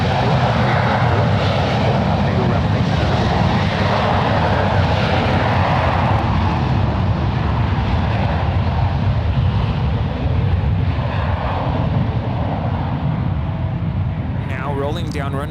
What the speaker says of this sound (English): Rolling down runway 1 right. This is JetBlue Airways flight 578 departing to Fort Lauderdale. It's an Airbus A321.